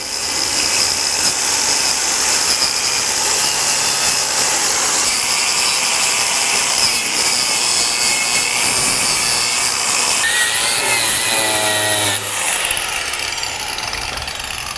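Power tool stripping a Ford Fox Body frame on a Fairmont project for welding: continuous loud, harsh grinding and whirring that runs steadily for about fifteen seconds, shifting in pitch near the end.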